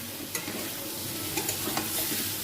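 Fish curry masala with turmeric sautéed in a wok: a quiet, steady sizzle with a few brief scraping stir strokes.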